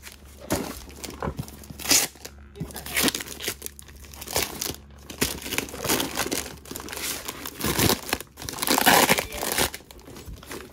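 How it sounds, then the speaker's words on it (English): Tape peeling and crinkling off a bag with a broken zipper, recorded up close as a run of irregular tearing and crackling bursts spread across the whole stretch, with no voices. "I got the tape off."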